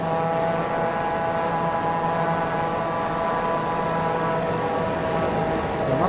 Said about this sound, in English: That's reverse thrust.